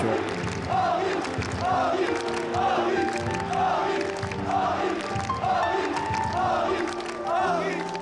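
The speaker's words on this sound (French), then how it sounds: "Amin Harit qui sort en pleurs sur la civière, sous les applaudissements du stade Louis II." A football stadium crowd at Stade Louis II applauds and roars as an injured player is carried off on a stretcher, a dense, steady wash of clapping and voices with swelling chant-like cries throughout.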